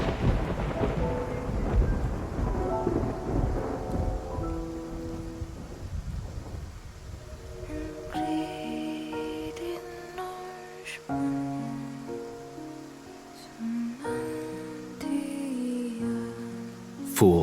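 A thunderstorm with rain in the game Love and Deepspace, heavy rain and rumbling thunder up front, giving way to loud booming thunder claps over the rain.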